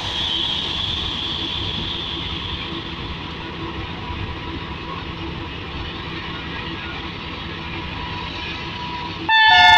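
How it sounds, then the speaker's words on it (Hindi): Steady low rumble of an idling Pakistani passenger train at Drigh Road Junction, then a loud sustained departure horn blast starts abruptly near the end. "इस ट्रेन ने डिपार्चर हॉर्न दे दिया है।"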